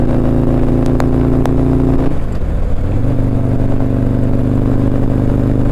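A 2018 Harley-Davidson Street Glide engine drones steadily at a constant pitch cruising in fifth gear at about 65 mph, loud and close, with a brief dip and shift in tone partway through before settling again.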